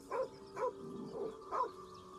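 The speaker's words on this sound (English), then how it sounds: "Oh, it's a dog." A dog in the video game Baldur's Gate gives four short, soft barks in an uneven rhythm, faint and close, over a steady low ambient hum.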